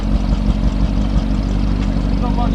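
Range Rover Sport SV with a 635 bhp engine idling quietly and evenly up close, a low steady rumble with faint pulsing and no voices.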